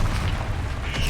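A short, loud magical blast from a Bombarda-style explosion spell in Hogwarts Legacy, one dense booming burst filling the whole moment.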